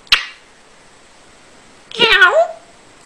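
A parrot imitates a cat's meow in one drawn-out, descending call between brief sharp clicks, loud and close.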